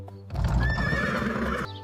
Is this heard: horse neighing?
yes